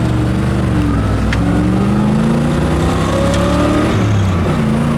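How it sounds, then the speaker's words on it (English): The exhaust of a 1966 Chevrolet Impala convertible burbles at a steady, loud, close idle with a low, even rumble throughout. "I love the sound of this exhaust too."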